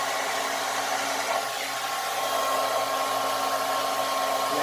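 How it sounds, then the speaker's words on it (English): A Golden Hot hair dryer running on high heat, a steady loud whirring blow with a constant hum throughout and no talking. "Okay, so now I have my golden hot dryer connected. I am going to put this on high heat."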